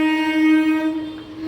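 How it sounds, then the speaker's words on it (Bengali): A through train passes at a city railway station, its horn or whistle holding a steady, loud, even tone for about a second and a half, then fading slightly. "এটা থ্রু ট্রেন একটা।"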